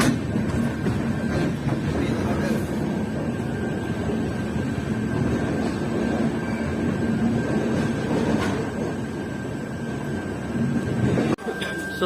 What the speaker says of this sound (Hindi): तो अपनी ट्रेन अब रिवर्स चल रही है।